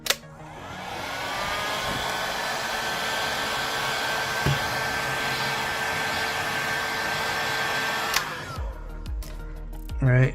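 A hot air tool blows steadily, close and moderately loud, softening the screen adhesive on an iPhone 14 during a repair, with a click at each end and faint handling noises.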